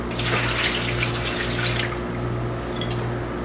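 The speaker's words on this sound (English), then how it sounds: "I am going to add just a little bit of water to the bottom so that they don't burn and stick when they first start cooking." Water runs and splashes into a pot of plums being readied for jelly, a steady close pour for about two seconds that then trails off into a quiet hum with a few faint drips.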